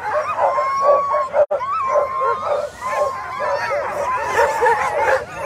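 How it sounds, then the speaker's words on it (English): Sled dogs at the start of a 200-mile race, a loud chorus of excited barks, yips, whimpers and rising howls, close and continuous, with some voices mixed in. "There's some happy dogs."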